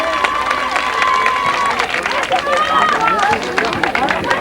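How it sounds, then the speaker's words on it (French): Audience at a Cannes event in 1988 applauds and cheers loudly and steadily, with whistles and shouting voices over dense clapping throughout. "On les applaudit bien fort."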